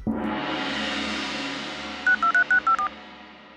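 A cartoon bamboo phone is dialed, with a sustained ringing tone fading under a quick run of six short, evenly spaced dialing beeps near the end.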